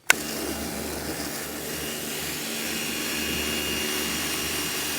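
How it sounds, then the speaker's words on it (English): A steady, loud hissing spray starts abruptly and runs on without pause, a pressure washer blasting water close by onto a Toyota GT86 or Mazda MX-5, loosening a bit of paint. "This is the first time that we've actually put a jet wash on this car"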